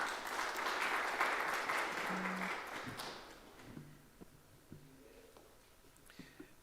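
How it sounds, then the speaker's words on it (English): An audience at an international forum applauds a panelist, a dense clapping wash that fades after about three seconds, leaving quiet room sounds and a few faint taps. "Please give him a round of applause."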